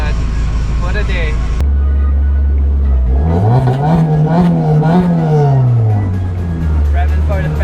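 Mazda RX7 with a 26B rotary engine revving hard at a Mazda Day car meet: a loud, close engine that rises in pitch, holds a high buzzing rev and then falls away again.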